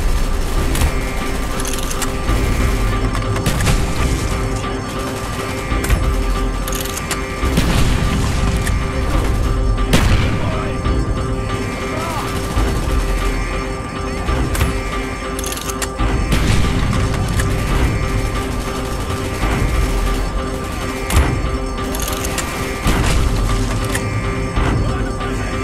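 Gunfire and explosions in Call of Duty: Black Ops, a dense, loud barrage of shots, booms and mechanical clatter continuing without pause amid the in-game battle.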